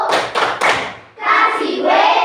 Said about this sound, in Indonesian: silakan beri apresiasi dengan memberikan tepuk wow, ya. Beri tepuk wow.